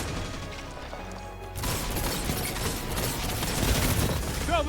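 Heavy, sustained gunfire fills a hallway in the video game Destiny 2, a dense wash of overlapping shots and impacts that grows busier partway through, with faint game sound effects near the end.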